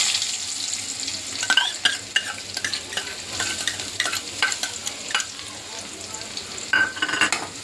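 Crushed garlic and cumin frying in a pan for a green gram curry tempering, a steady sizzle broken by repeated scraping taps of a spoon stirring, with no talk.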